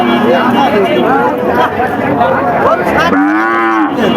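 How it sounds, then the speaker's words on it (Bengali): Cows mooing at a busy cattle market where dry cows are bought and sold, several drawn-out, tonal moos rising over a steady crowd murmur, one loud close call near the end. "গরুর বেশ আমদানি হয়েছে গরুর কিনা বেচাও চলছে এখানে"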